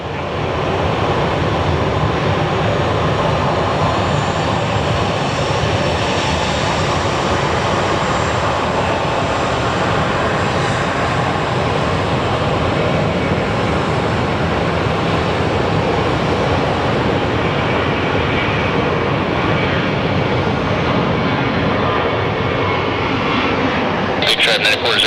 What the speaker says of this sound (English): We're gonna have a WestJet taking off soon.